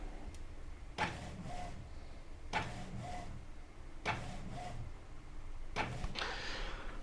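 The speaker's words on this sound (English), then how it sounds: "let's kick it off and see what it looks like when it comes out of the printer" A photo printer feeding a print in repeated cycles, four sharp mechanical clunks roughly every one and a half seconds, each followed by a short whirring pass, close and fairly quiet.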